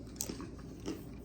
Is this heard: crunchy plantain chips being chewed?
yes